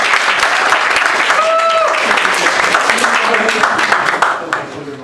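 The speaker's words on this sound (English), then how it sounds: "So, applause for the team of Panda and lungs." Loud audience applause for a startup team at a health-tech startup weekend, steady dense clapping filling the whole stretch, with voices and a brief tonal sound mixed in and the clapping thinning slightly at the end.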